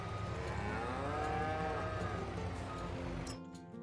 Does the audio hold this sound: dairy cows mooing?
yes